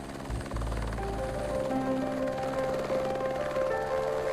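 A helicopter's rotor and turbine drone at a distance over an outback cattle station near Halls Creek, Australia, a steady whirring hum that stays moderate and unbroken, with no talking.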